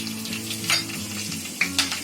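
Mustard seeds and cumin sizzle steadily in hot oil in a kadhai, a dense close frying hiss with a couple of light metallic clinks.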